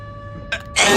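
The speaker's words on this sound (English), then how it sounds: "Excuse me while I sneeze." A single sneeze, with a short sharp intake followed by a loud burst, close to the microphone against a faint electrical hum.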